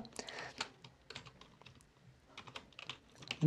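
Python code typed on a computer keyboard, a close, busy run of quick key clicks in uneven bursts, with soft talk mixed in.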